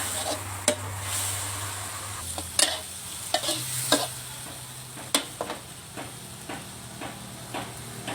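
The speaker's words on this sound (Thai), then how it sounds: "นี่ใส่ตับลงไปผัดเลยค่ะ" Liver stir-fried over high heat in a wok for Thai holy basil stir-fry (pad kaprao), with a steady close sizzle, scraping spatula strokes and a few sharp clanks of metal on the pan.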